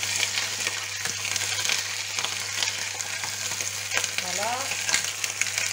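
Turkey osso buco pieces fry in a pan with a continuous loud sizzle and scraping stirs, a low steady hum underneath, and a short spoken word near the end.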